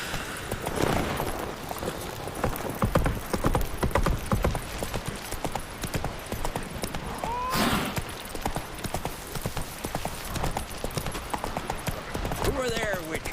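Hooves of a horse galloping in The Witcher 3, a steady drumming clip-clop running throughout at moderate loudness, mixed with game sounds, a brief whinny and someone talking over it.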